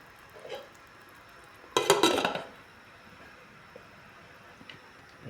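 A metal lid is set back onto a cooking pot of chicken tinola with bottle gourd, a single sharp clattering clank with a brief rattle, standing out loudly against an otherwise quiet kitchen.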